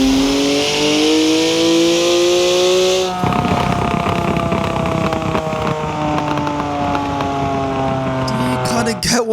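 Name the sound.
BMW M4 GTS engine revving in video game Forza Horizon 4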